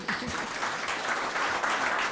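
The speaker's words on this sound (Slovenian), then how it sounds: "Aplavz." Brief applause from a studio audience on a Slovenian entertainment show, a soft, dense patter of clapping lasting about two seconds, heard fairly faintly at a distance.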